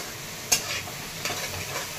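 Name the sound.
ginger, onion and green chili sautéing in a pan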